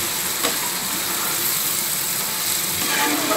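Veg biryani being stirred in a pan, a dense even hiss of cooking close by with faint soft scrapes and no clear separate strokes.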